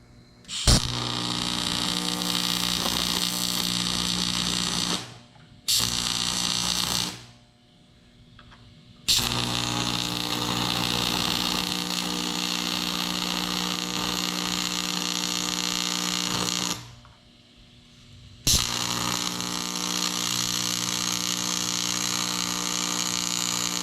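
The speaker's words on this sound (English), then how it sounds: "Not sure how this cast aluminum's gonna weld up" A welder buzzes in long steady stretches while laying beads on a cast aluminum arm rest from a Sprinter van, with an even electrical hum that breaks off for short pauses between passes.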